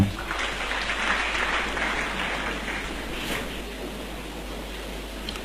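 A church congregation applauding together, a steady broad wash of clapping that holds through the whole stretch and eases slightly toward the end, with a faint voice underneath.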